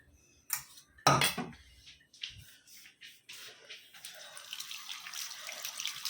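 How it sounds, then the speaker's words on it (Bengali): Kitchen sink sounds as a pot is washed: a sharp clank of metal cookware, scattered clatter and dripping, then a steady stream of running tap water building toward the end. "একটা বাসন আছে ধুয়ে নিই"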